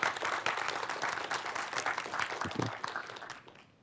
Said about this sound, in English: give again a round of applause, Jarosław, for our speech.